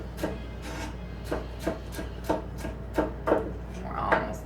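A knife chops through a pepper for salsa on a board, with roughly eight crisp, evenly spaced cuts in a steady rhythm and no voices.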